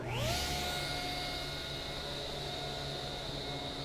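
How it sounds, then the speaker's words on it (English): A table saw spins up and runs steadily while ripping a 3-inch strip off a board: a rising whine settles into a constant motor drone with a high tonal hum, fairly quiet and unbroken, with no speech. "I'm going to turn the saw on, and we're going to rip a 3-inch piece off this board."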